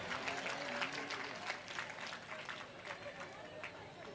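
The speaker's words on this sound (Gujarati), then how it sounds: "નવું લાગ્યો તાળી પાડો ભાઈ." An audience at a Bhagavat Saptah folk dayro comedy programme claps in a dense, steady burst of applause, with a voice briefly heard over the start.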